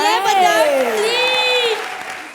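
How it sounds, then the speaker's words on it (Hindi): Studio audience applause on a comedy show, a broad clapping wash underneath a loud sustained voice with a sliding, drawn-out tone, fading slightly at the end. "उनके लिए जोरदार तालियां"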